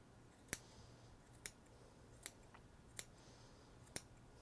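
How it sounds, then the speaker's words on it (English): Scissors snip through pom-pom yarn loops, five crisp close cuts spaced about a second apart over a quiet background. "On this half, I just have to go ahead and as evenly as possible, just snip down"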